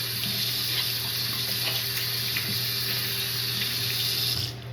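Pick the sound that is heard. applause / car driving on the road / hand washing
hand washing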